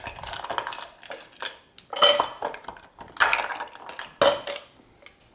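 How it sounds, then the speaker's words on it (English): Ice cubes clatter into a metal cocktail shaker tin while a Mad Hatter cocktail is being mixed: several bright, close clinking bursts with short pauses between them, and no talking. "add some ice to our tin."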